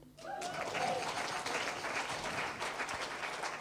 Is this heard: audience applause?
yes